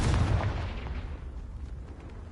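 A Confringo fire spell explodes in Hogwarts Legacy with a heavy booming blast at the start that rumbles and fades away over the following seconds.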